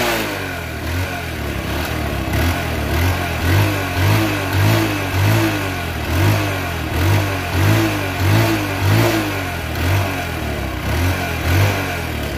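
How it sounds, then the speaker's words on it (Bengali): A second-hand Suzuki Hayate 110cc motorcycle engine running close by, revved in a regular series of short throttle blips that swell and fall over a steady idle rumble. "এখন দেখো বন্ধুরা গাড়িটির সাউন্ড কোয়ালিটি"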